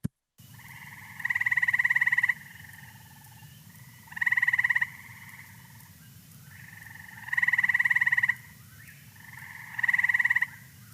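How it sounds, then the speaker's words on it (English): An eastern gray tree frog gives four loud, evenly spaced trilling calls, each a steady buzzy rattle lasting about a second, with pauses between. Under them runs a continuous low chorus of insects or distant frogs, and an eastern whip-poor-will sings faintly in the background. "you can hear the eastern whippoorwill actually singing behind the frog."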